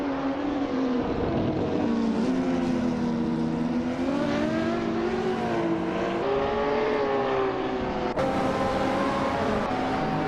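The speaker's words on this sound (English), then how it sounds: "driving a 1995 Rough CTR2" A 1995 Ruf CTR2 race car engine in a racing video game, a loud continuous engine drone whose pitch rises and falls with throttle, one abrupt shift or change near the end.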